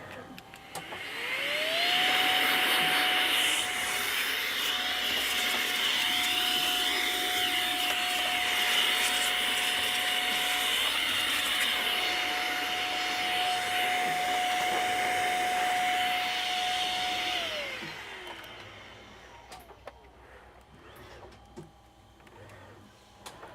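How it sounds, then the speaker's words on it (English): A small hand vacuum cleaner in a console repair workshop runs steadily for about fifteen seconds with a constant whine, spinning up at the start and winding down near the end, close and fairly loud. "these little hand vacuums that we got are terrible"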